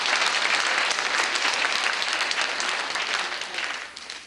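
An audience at a traditional Korean dance presentation gives loud, full applause that stays strong and then gradually tapers off toward the end.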